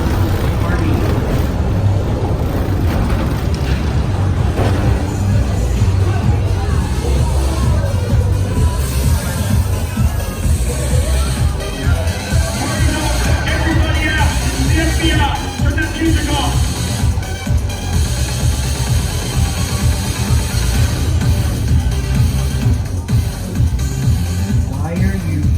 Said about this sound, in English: Sounds like we got a party going on